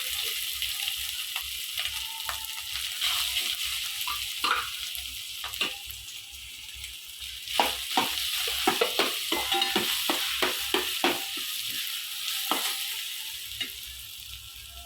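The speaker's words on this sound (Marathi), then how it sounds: "आता मी हा सगळा भात जो आहे गरमच आहे आणि त्याच्यावर छान परतून घेणार आहे" Hot cooked rice being sautéed with turmeric in a pan, a steady soft sizzle under repeated scraping and clacking stirs of a spoon against the pan, close and continuous with no talk.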